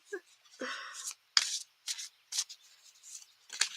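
Close, quick rustles and flicks of playing cards being shuffled in short irregular bursts, with a faint voice mixed in near the start.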